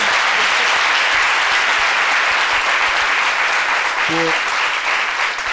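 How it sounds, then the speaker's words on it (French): Steady, dense applause from a seated audience at a public event, continuous and fairly loud throughout, with a short voice rising briefly near the end. "Je crois qu'elle mérite quelques applaudissements de votre part."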